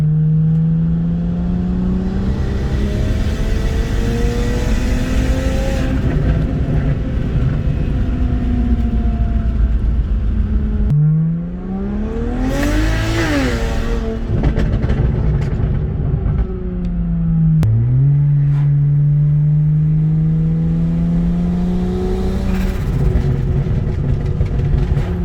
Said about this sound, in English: You hear the straight six, and then you just start hearing that turbo